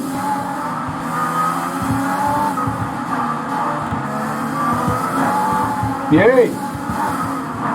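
Race car engine drones steadily in Driver Career 2020 with a short tire squeal near the end, while a player talks and cheers over it.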